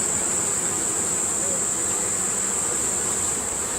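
Honeybees in an observation beehive give a constant dense buzz, close and loud, with no pauses over the few seconds.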